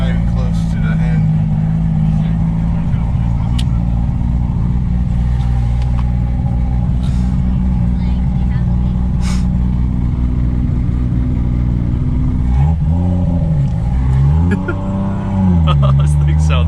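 Turbocharged Lexus IS300 making about 700 horsepower, engine droning loud and close from inside the car under steady acceleration, revs rising and falling near the end, with people talking over it.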